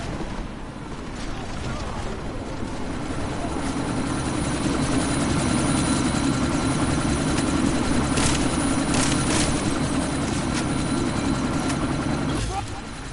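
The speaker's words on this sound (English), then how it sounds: "That chopper's about to take off!" A helicopter in Deus Ex is about to take off. Its engine and rotors make a loud, steady, continuous roar that stays heavy throughout, with a few sharp knocks and impacts on top near the end.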